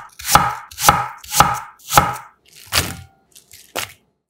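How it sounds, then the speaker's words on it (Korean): Knife thinly slicing apple on a cutting board: four evenly spaced, sharp crunchy chops followed by a few lighter, irregular cuts, close and clear with no talking. "3등분해서 얇게 편 썰어 담아주세요"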